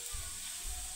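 Tomatoes and fenugreek leaves cooking in a pan, a soft continuous sizzle with faint bubbling, steady and close with no talking.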